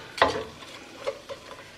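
Sausage cooking in a pot, a soft sizzle with a sharp scrape or stir at the start and a few faint clicks of a utensil afterward.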